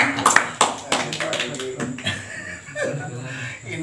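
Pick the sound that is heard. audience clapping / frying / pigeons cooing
audience clapping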